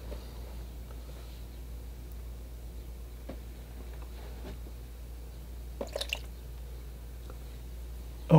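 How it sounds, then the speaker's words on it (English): Watercolor paint splashed onto a painting of loose figures: a few soft, wet flicks and drips landing on paper, faint and close over a steady low hum, with a slightly louder cluster of splatters near the end. "And I just add some splashing to practice, really,"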